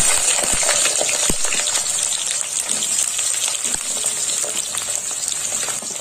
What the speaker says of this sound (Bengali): এবার সমস্ত সবজিগুলো আমি ভেজে নেব। প্রথমেই দিয়ে দিলাম আলু